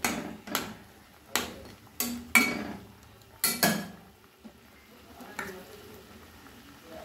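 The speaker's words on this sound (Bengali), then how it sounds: "ঝোল ফুটে গেছে। এবার মাছগুলো আমি দিয়ে দিলাম, ঝোলের সঙ্গে মিশিয়ে দেব।" Puti fish in a bubbling mustard-poppy seed curry being stirred, several distinct clinks and scrapes of a spoon against the pot in an uneven rhythm over a faint bubbling simmer.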